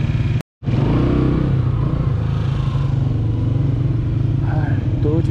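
Motorcycle engines idle and rumble steadily at a rest stop on a mountain road during a long bike tour through northern valleys, a continuous loud drone with a brief cut near the start.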